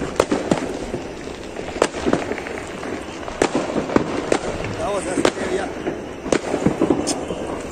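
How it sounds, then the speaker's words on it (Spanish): Fireworks and firecrackers going off around Christmas midnight in Florida, Uruguay: scattered sharp bangs and crackling pops at varying distances, some near and loud, over a background of distant booms and faint voices. "que ya están tirando cohetes."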